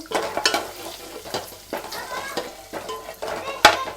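Spices temper in hot oil for sambar with coriander, giving a crackling sizzle broken by repeated stirring scrapes in a pan and a sharp clink near the end.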